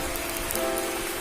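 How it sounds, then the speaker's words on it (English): Steady rain falls on the leafy canopy of woods in summer, a continuous close hiss of drops pattering on foliage with no talk, constant and even throughout. "Guys, it's raining, but because of these woods, the rain can't get into us."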